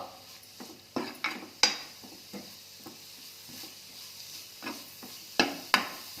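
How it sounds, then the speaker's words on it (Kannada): Grated carrot frying in ghee in a pan while being stirred, soft sizzling beneath a series of sharp metal scrapes and clinks from the spoon against the pan, irregular and close. "ಇದನ್ನ ಸ್ವಲ್ಪ ಮೆತ್ತಗಾಗೋವರೆಗೂ ಹುರ್ಕೋಬೇಕು ಇದರಲ್ಲಿ ತುಪ್ಪದಲ್ಲಿ ಹಸಿ ವಾಸನೆ ಹೋಗೋವರೆಗೂ"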